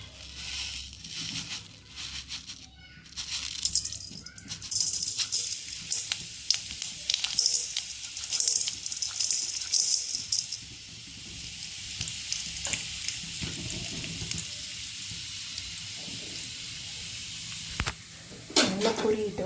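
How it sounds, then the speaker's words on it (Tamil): Mustard seeds, chana dal and cumin crackle and sizzle in hot oil in a home kitchen, a steady frying hiss with sharp popping bursts, stirred now and then, with a voice talking over it. "இப்போ நம்ம எடுத்து வச்சுருக்க கடுகு, கடலைப்பருப்பு, ஜீரகம் இதெல்லாம் ஒவ்வொன்றா போட்டு தாளிச்சுக்கலாம்."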